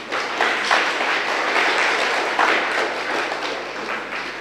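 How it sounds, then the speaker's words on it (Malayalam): An audience at a spiritual class applauds together, a dense, fairly loud wash of hand clapping that holds steady throughout. "എല്ലാവരും ഒന്ന് കൈയടിക്കാലോ."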